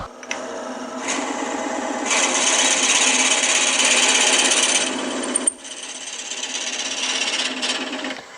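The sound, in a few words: drill boring hole in wood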